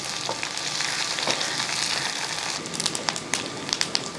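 Shallots, dried chillies and curry leaves sizzle and crackle steadily in hot oil for a Kerala-style bitter gourd curry, with small pops and stirring scrapes near the end, close up and without speech.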